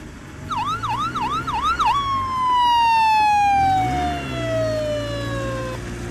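A toy fire truck siren wails in quick rising-and-falling whoops, then shifts into a long descending tone, with an engine rumbling underneath.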